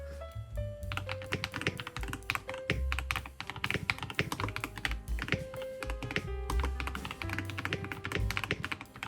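Rapid, continuous typing on a mechanical keyboard, close up, with crisp clacky keystrokes and occasional deeper thocks from larger keys.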